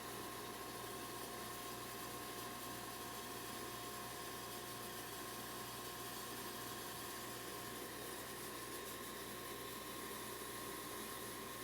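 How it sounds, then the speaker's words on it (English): A sandblasting nozzle sprays a steady, faint hissing stream of sand against stone to carve it, continuous and unbroken with no voices. "Just kind of working that nozzle,"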